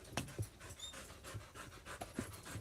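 A dog pants in quick, close, uneven bursts of breath on a porch, loud and near with no talking over it.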